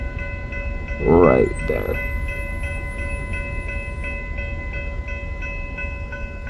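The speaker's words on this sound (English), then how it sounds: "So as this train is building, our local with our crew on the caboose right now is holding" Freight cars and a caboose make up a BNSF train at Hobson Yard in Lincoln, Nebraska, with a steady low rumble of idling locomotives and tonal hum throughout. Someone speaks briefly near the start.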